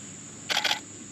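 A camera shutter fires twice in quick succession while photographing a Yorkie in aperture priority mode, two crisp close mechanical clicks over a steady faint background hum.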